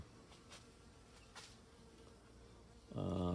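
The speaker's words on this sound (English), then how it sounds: "the bees absolutely going mad for it" Bees buzz faintly around orange chrysanthemum blooms in a garden, a soft, steady insect hum that swells into a loud, close drone near the end.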